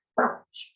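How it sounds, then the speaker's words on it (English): A single short bark from a dog, then a brief high yip right after, both close and fairly loud in an otherwise quiet moment. "excuse the dogs."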